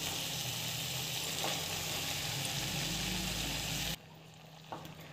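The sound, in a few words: soaked poha sautéing in a pan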